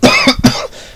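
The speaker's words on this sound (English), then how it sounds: "Excuse me, coughing." A few harsh, close coughs in quick succession, loud and alone with no talk.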